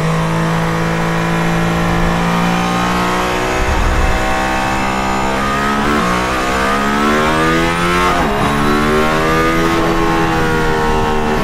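A Mercedes-AMG ONE hypercar's high-revving engine roars continuously on a race circuit, pitch climbing through gear changes as the car accelerates hard, loud and close throughout.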